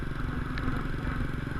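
A motorcycle ridden on a street in Banda Aceh gives off a steady, close engine rumble with light rattling and scraping over it, continuous and uninterrupted throughout.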